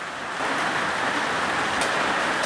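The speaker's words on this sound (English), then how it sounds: "How big are those freaking raindrops?" Large raindrops pour down outdoors near a 1984 Dodge D150 pickup, a dense, even hiss of heavy rain that swells after a brief softer start and then holds steady throughout.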